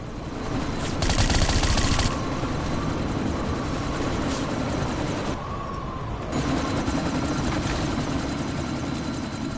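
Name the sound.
helicopter in the video game Deus Ex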